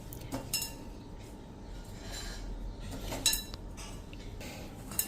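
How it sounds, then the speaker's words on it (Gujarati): A spoon clinks against a bowl while mixing chili flake chips puri dough, soft scattered scrapes and taps with a few sharper metallic clinks, fairly quiet and close. "હવે ચમચેથી કે હાથેથી આપણે ગરમ હોય તો ચમચો લેવાનો અને આ બધું જ આપણે મિક્સ કરી લેશું"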